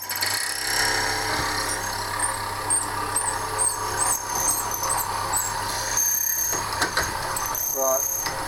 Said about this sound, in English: You've got to be a little bit careful for heat and this, that and the other when you're drilling acrylic, especially this stuff, which is a poly mix.